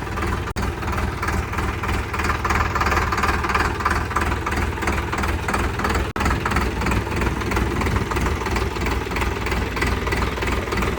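A Massey Ferguson 241 tractor, 2013 model, idles steadily with a continuous, loud diesel rumble and rhythmic knocking throughout, briefly dipping twice.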